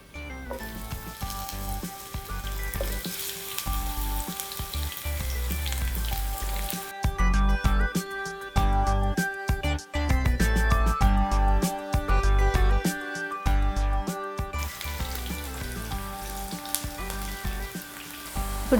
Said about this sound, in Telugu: ఇప్పుడు నూనె వేడెక్కింది కదా, ఇందులో కాకరకాయలు వేసుకొని ఫ్రై చేసుకుందాం